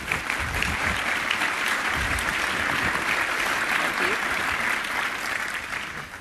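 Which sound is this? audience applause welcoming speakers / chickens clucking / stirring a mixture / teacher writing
audience applause welcoming speakers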